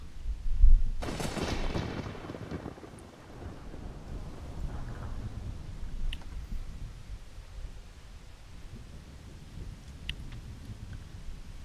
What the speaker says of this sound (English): That storm just kind of showed up